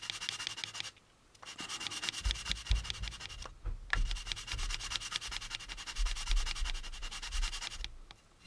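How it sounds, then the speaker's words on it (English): Plastic model kit parts from an AMT U.S.S. Enterprise kit being sanded to remove sink marks, repeated rapid rasping strokes close up, with short pauses between passes. "again kind of cross sand these out by just turning this. And eventually they will get rid of the sink marks"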